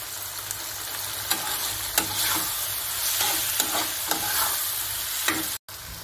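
Paneer and coriander being sautéed and stirred in a pan for jhunka paneer, with a steady sizzle and repeated sharp spatula scrapes and taps.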